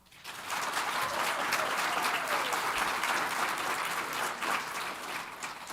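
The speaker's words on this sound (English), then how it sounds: "For those who want to clap for Mark, please clap." An audience at a panel discussion on restoring streams and wetlands claps steadily, the applause starting abruptly and holding as a dense, even wash before easing slightly near the end.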